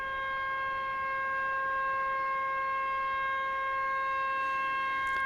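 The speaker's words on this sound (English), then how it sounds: "that siren sound is an air start, and I have no control over it" An airport air start unit at Dallas/Fort Worth International wails with a steady, sustained siren-like tone of several stacked pitches, loud and unbroken throughout, with no talking.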